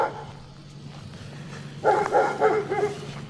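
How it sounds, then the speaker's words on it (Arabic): A dog barks at night in the American countryside, several loud, close barks in a quick uneven burst after a quiet stretch of low background hum. "يا ساتر عليك كلب."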